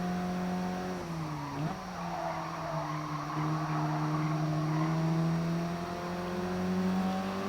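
Tires squeal steadily through a drifted corner in GT Sport racing, layered over a constant high-revving race car engine whose pitch dips and climbs, loud and continuous with no talking.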